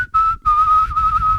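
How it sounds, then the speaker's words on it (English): Someone whistles one steady, clear note, broken into a couple of short bursts and then held longer. The whistle is close, with no voices. "all of a sudden I could whistle"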